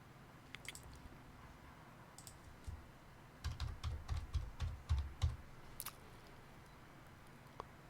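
Someone types on a computer keyboard while entering court case figures: a quiet room with a few scattered clicks, then a quick run of close keystrokes before sparse taps resume.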